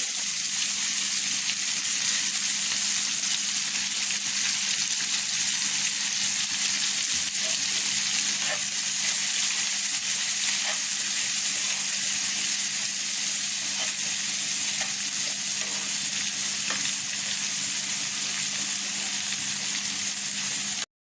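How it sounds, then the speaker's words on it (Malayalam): Chopped onion frying in hot oil with whole spices (bay leaf, fennel seeds, dried red chillies) in a pan for Kerala-style prawn roast: a steady, close sizzle runs throughout with occasional faint clicks and pops, and no talking. "ഇതിലേക്ക് അരിഞ്ഞു വെച്ച ഉള്ളി ആഡ് ചെയ്തു"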